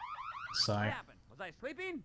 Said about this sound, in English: No, that's the alarm!